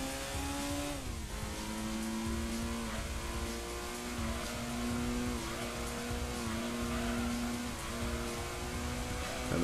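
Car engine in the racing game Gran Turismo 2 revving and accelerating steadily, harmonic engine tones rising and shifting through gear changes at constant loudness, with no talk.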